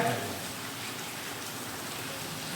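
Steady rain falls throughout an open-air village meeting at Ankoli, Mohol taluka, Solapur district, a soft continuous hiss with no clear voices over it.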